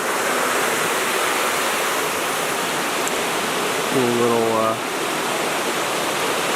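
Steady rushing water runs down small rock steps, flowing and splashing continuously, loud and close, at Turkey Run State Park, with a brief voice speaking over it partway through.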